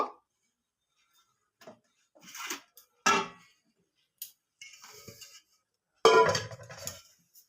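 Sparse metallic clinks and knocks as a lid comes off a pot holding an eggless orange cake on the stove, a few sharp taps separated by near silence, the loudest rattle near the end.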